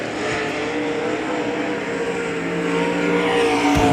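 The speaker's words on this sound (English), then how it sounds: "And the 25 of Jeremy Mills coming back for lap number 1" Race car engine roaring steadily around the dirt oval at Hagerstown Speedway, a loud continuous drone that swells slightly as the car nears, with no talk over it.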